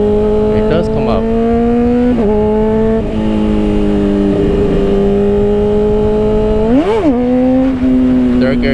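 Motorcycle with a new chain and sprockets revving hard in third gear during a wheelie attempt, a loud close engine drone holding a steady pitch with brief throttle blips and a sharp rise near the end.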